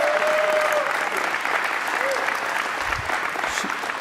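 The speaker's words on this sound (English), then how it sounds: "Give her a round of applause." Crowd applause for the All-Fair Ohio Fair Queen at the Ohio State Fair opening ceremony, a dense sustained clapping throughout, loud and close, with a brief whistle-like tone and some voices under it.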